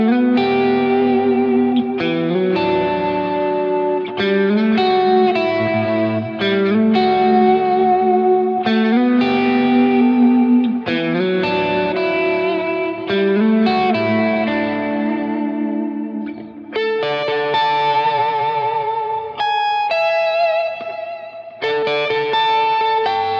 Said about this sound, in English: to me, that sounds like my King of Tone kind of going into an amp